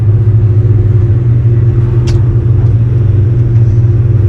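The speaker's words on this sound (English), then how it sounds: "it has side exits straight through exhausts which sound amazing" A McLaren F1 GTR race car with straight-through side-exit exhausts runs close by with a loud, steady, deep engine drone, with one brief sharp crackle partway through.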